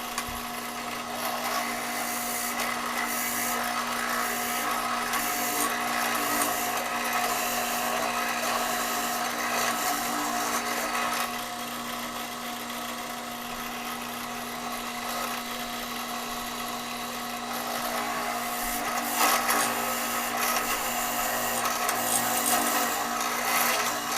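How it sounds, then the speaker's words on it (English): Drill press boring two holes through a redwood block, a steady motor whine with grinding, rasping wood noise that swells and eases as the bit cuts, loud and close throughout. "we're going to go ahead and drill these 2 holes here"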